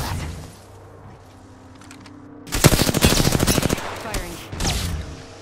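Rapid automatic gunfire in the Apex Legends battle royale game, a loud burst of fast repeated shots followed by shorter bursts, standing well above quiet game ambience.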